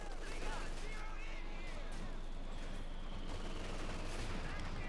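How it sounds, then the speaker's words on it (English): Faint crackling machine-gun bursts from Wehrmacht grenadiers' light and heavy machine guns in the Company of Heroes 2 strategy game, a dense, steady rattle of gunfire heard under a commentator's voice. "Grenadiers opening up the light machine gun, heavy machine gun opening up the swap at the same time."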